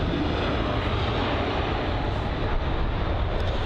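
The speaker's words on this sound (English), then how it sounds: "I think it was the A319 there." A Brussels Airlines Airbus A319 roars steadily and loudly, a continuous broadband jet rush close by with no pause across the whole stretch.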